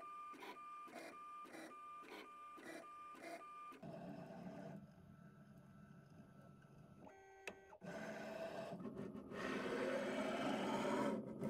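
Carvera desktop CNC mill's automatic tool changer at work: a rhythmic series of whirring stepper-motor pulses, then a brief click and spindle clatter as it picks up a 1/8 inch single flute spiral bit, ending in rising machine noise.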